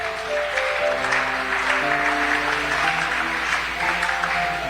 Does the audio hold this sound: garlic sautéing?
no